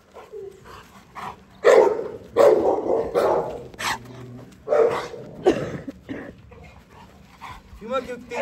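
A Fila Brasileiro puppy barks a few times in short bursts, with some whimpering, while a person talks nearby.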